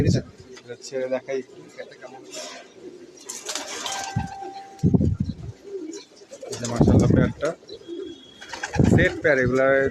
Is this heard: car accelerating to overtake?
no